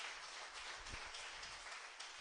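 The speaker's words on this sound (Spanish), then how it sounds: "Un aplauso a Jesucristo" A church congregation applauding, dense continuous clapping from many people at a moderate level, with a few low thumps underneath and no speech over it.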